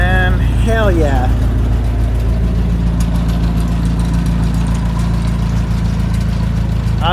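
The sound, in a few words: 1958 Jeep DJ-3A Dispatcher engine running without muffler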